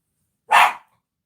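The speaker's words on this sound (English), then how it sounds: "Our dog hardly barks, okay?" A single dog bark, short and fairly loud, heard alone against silence.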